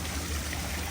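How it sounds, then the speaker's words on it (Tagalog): A steady, continuous rush of running water fills a short moment at Al Jadi Resort in Saudi Arabia, close and even with no pauses. "Ito, yung nakaka-relax na tunog ng mga tubig, no?"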